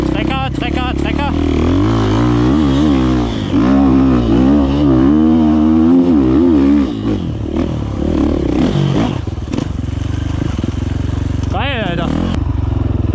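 A four-stroke motorcycle, ridden in a comparison against a two-stroke 300, revs and rides with a deep, chugging, tractor-like engine note. Its pitch rises and falls continuously, and a rider speaks excitedly over the engine.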